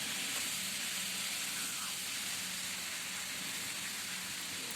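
Stuffed eggplants frying on a low flame, giving a steady, even sizzling hiss that holds at the same moderate level throughout with no breaks.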